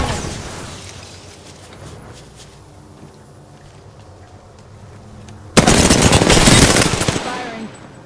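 Gunfire in the video game Apex Legends erupts in a sudden loud burst of rapid shots near the end, after a quieter stretch of ambient noise and distant activity.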